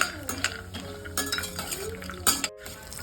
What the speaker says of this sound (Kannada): ಈಗ ನಾನು ಗೋಡಂಬಿ ಹಾಕ್ತಾ ಇದ್ದೀನಿ ಇದು ಆಲ್ಮೋಸ್ಟ್ ಕಾಲು ಕೆ ಜಿಯಷ್ಟಿದೆ ಅಷ್ಟಿದೆ ಇದನ್ನು ಇವಾಗ ನಾನು ಫ್ರೈ ಮಾಡ್ಕೋತಾ ಇದ್ದೀನಿ